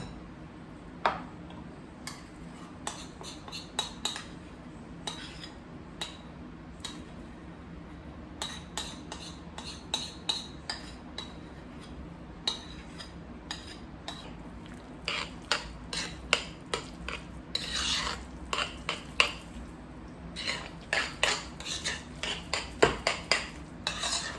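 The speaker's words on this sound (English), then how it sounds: "you take your tahini mix and mix it all together" Spoon or utensil repeatedly clinking and scraping in a bowl while tahini mix is stirred into mashed eggplant for baba ganoush, an irregular run of light ticks and taps close by, with no talking.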